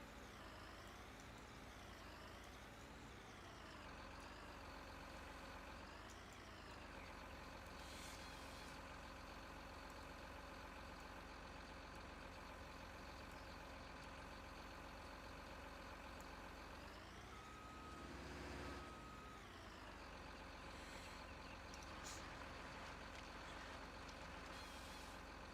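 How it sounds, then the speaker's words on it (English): A forestry tractor with a front blade in a Farming Simulator game rumbles steadily as it shunts material around, engine pitch rising and falling with changing load, alone with no talk. "we get the forestry tractor out here, and we go and do a little bit of shunting around of stuff"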